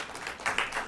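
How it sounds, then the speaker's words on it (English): A small audience claps after a string quartet coaching session, a light scattering of claps with a few sharper bursts, fairly faint and brief. "they're clapping."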